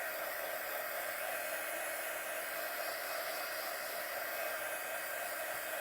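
A hair dryer blows steadily and close for several seconds, drying a glass jar decorated with a decoupaged napkin print, a constant even roar with no talk.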